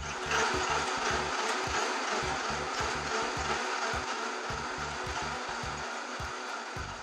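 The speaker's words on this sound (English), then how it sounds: "I'm going to go ahead and put the lid on and whir it up" Blender whirring ginger with almond milk and other recipe ingredients, a steady motor drone with a rapid pulsing low chug, continuous and fairly close.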